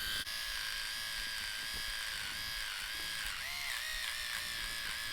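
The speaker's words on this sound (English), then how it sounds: "And now we're doing the other half with the MicroTouch Max." A MicroTouch Max electric trimmer buzzes steadily while trimming a mustache, a close, continuous whine whose pitch dips briefly as it catches in the hair.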